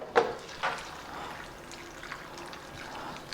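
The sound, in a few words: water poured into vegetables for pressure cooker sambar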